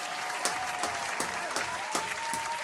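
Audience applause rises as a steady, moderately loud wash of clapping with faint rhythmic peaks running through it, with no voices on top.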